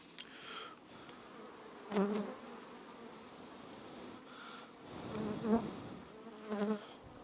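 Honey bees buzzing in an open beehive, a soft close hum rising and falling as individual bees pass near, with a few louder buzzing swells over a quiet background.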